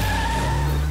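A cartoon car drives off with a sustained, loud skidding tire squeal over a revving engine, filling the whole short moment.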